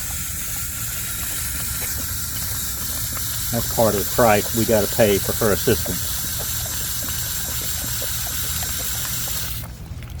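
A garden hose runs steadily outdoors with a continuous hissing rush of water, while someone speaks briefly partway through.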